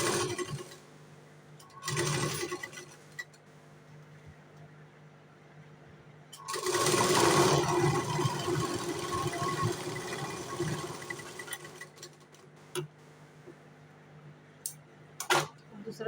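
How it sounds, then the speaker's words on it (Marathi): A sewing machine stitches the first fitting seam of a katori blouse, running in a short burst and then in a longer, louder run amid quieter handling noises and a few clicks. "आता याला आपण स्टिच करून घेऊ."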